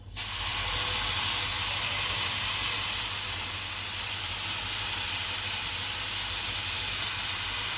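Milk poured into a hot pan of semolina and coconut, sending up a loud, steady steaming hiss and sizzle that holds evenly throughout with no talking.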